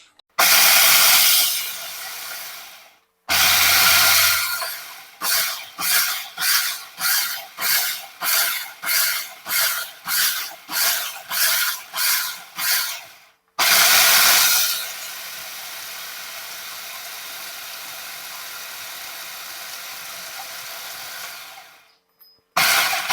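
Coriander seeds being coarsely ground in a kitchen grinder: a loud whirring roar, then a run of about a dozen short even pulses, then another long continuous grind that cuts off.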